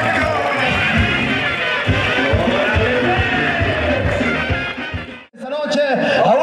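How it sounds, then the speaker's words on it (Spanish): A rodeo crowd at a ranch applauds and cheers in a thick, continuous roar under an announcer's voice, then breaks off abruptly near the end as speech carries on alone. "Vamos a darle un fuerte aplauso."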